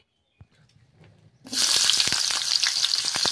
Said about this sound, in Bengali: তেলটা গরম হয়ে গিয়েছে, এবার পেঁয়াজ কষা দিয়ে দিচ্ছি